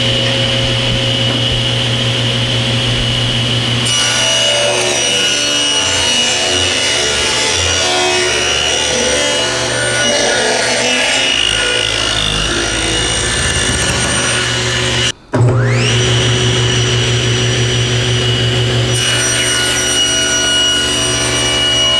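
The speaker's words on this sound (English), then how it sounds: "now it's time to cut these panels to final width" A router with a panel-raising bit cuts 3/8-inch-thick glued wood panels to final width, giving a loud, steady, close whine with shifting cutting noise, a brief break midway, and then more cutting.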